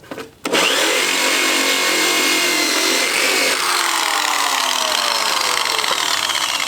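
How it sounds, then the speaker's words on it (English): Screwdriver prying under a body panel to separate it on a DA9 Integra, a loud continuous metallic scraping and grinding with a sharp onset, steady close-up noise through the whole stretch, shifting slightly in tone partway through. "I'm using the screwdriver to try and get under it and separate the panel a little bit"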